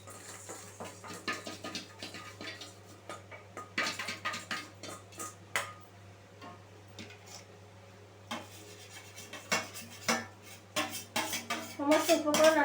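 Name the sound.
dal (lentils) being added into the cooking pot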